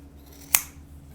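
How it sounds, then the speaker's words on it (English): A single crisp scissors snip cuts through loom warp threads during independent warping, one sharp click standing alone over a quiet background. "give them a snip that way."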